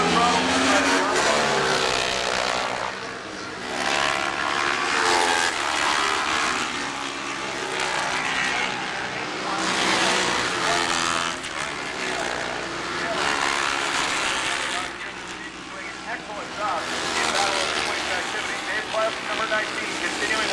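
A Ducati superbike races at the Shannonville circuit as the rider opens the throttle, producing a loud, continuous engine roar that swells and dips throughout, with a voice talking over it.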